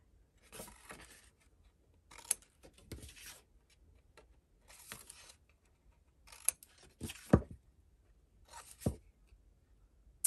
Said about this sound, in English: grab your scissors and we're going to miter the corners